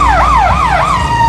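An ambulance siren wails loudly and close by amid a motorcycle rideout and Dodgers game traffic, its pitch sweeping up and down in a steady repeating cycle over a low road rumble.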